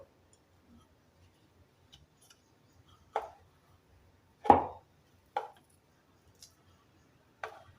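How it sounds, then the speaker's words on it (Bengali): Ripe bael (wood apple) fruit is squeezed and mashed by hand for murabba. A few soft, close squelching presses come at uneven intervals over near silence. "এখন আমি হাতের সাহায্যে বেলগুলো সুন্দর করে চটকে নেব"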